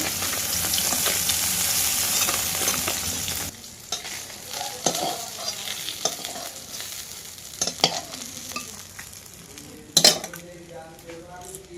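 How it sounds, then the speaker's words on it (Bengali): Fish frying in a pan over an outdoor cooking fire in the Sundarbans, with steady loud sizzling that drops partway through, followed by intermittent stirring scrapes and clinks of utensils against the pan. "একে একে সব মাছ ভেজে নেবো।"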